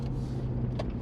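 Steady low idle from a two-door Jeep JL fitted with an aFe Rock Basher 3-inch 409 stainless steel cat-back exhaust, a deep even rumble that holds close and constant, with a short brighter whoosh partway through.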